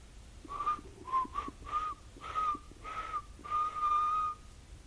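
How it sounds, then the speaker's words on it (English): Someone whistles a simple tune in short phrases, each note clear and melodic, with brief pauses between them and no other voices. "The whistling seemed to be coming from next door."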